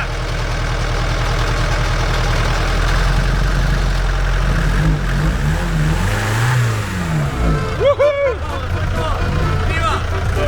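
A vehicle engine that struggled to start runs at a low idle, then revs up and down in rising and falling surges, loud and close, with someone talking over it.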